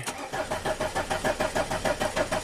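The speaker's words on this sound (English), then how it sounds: "So I'm just going to crank it for a little bit." A TDI diesel engine cranks over without firing after a cylinder head swap, its starter churning in a steady, rapid rhythmic chug of even pulses, close and fairly loud, with no voices over it.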